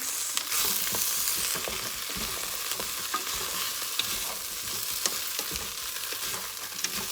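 Oxtail meat coated in cornstarch is mixed in a hot pot, a continuous sizzle with repeated scraping stirs and small clanks, near and steady throughout with no one speaking.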